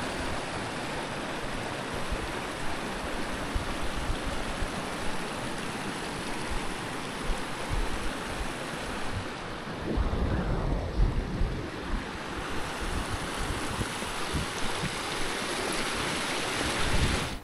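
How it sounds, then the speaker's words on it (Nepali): A stream near Rara Lake, Nepal, rushes steadily and continuously, with a broad wash of noise and a slightly louder surge midway, heard alone without voices. "छेउतिर खोला बगिरहेको छ, आफ्नै सुरमा सङ्गीत छर्दै बगिरहेको पानीको।"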